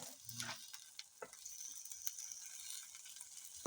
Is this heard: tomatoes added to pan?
yes